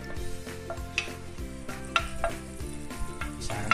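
Butter sizzles in a hot pan with a steady crackle, mixed with rhythmic stirring and light clinks of a utensil against the pan, and no talking.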